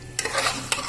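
Chicken pieces are stirred and tossed with salt in a hot pan, giving a sizzling fry with two sharp scraping strokes of a spatula, close and fairly loud.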